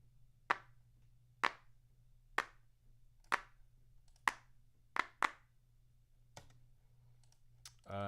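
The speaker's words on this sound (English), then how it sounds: "Hearing all that clapping" Single sharp claps, about nine of them, ring out at uneven intervals against a faint steady hum. Each is crisp and isolated with a short decay, and a louder burst cuts in at the very end.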